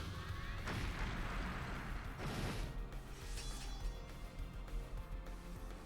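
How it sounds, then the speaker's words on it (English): Special cannons firing mirage beams at a giant mirage tower in the video game Trails of Cold Steel 3, heard as dense booming blasts and bursts over a loud continuous battle din. "These are special cannons. They fire mirage beams!"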